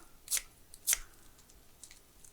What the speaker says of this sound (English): I just snip those with the scissors into our eggs